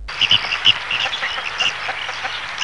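Red-crested pochard duck calling in a series of short, close, fairly loud nasal notes with an uneven rhythm, heard alone with no talk.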